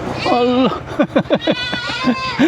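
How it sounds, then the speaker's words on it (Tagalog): A goat bleats close by, one long wavering cry followed by a quick stuttering series of shorter bleats and a final softer call. "Nandito naman yung kambing ni Trupa."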